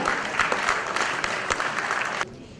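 An audience at an awards ceremony bursts into a full round of applause, many hands clapping in a thick, even roar that stops abruptly near the end and leaves near silence.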